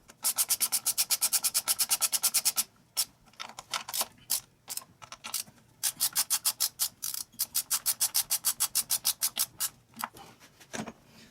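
Socket wrench ratcheting on the valve cover bolts of a Lincoln: rapid runs of crisp, close clicking, broken by pauses and a few irregular clicks as the wrench is reset, then another fast run.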